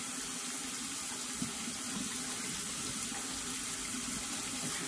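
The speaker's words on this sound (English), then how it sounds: "Finding that after a good 5 minutes of running water through it" Tap water running through a fountain pen to rinse it at a sink, a steady continuous hiss and splash with no pauses and no voices.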